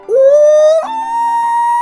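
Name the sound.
man imitating a common loon call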